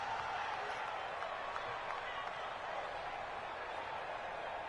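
A steady, full stadium crowd roar in an American football video game, Cowboys versus Buccaneers in a divisional playoff round, swelling evenly and continuously without clear breaks.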